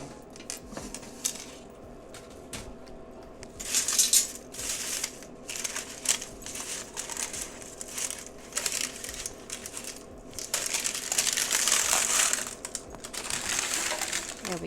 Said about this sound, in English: the parchment paper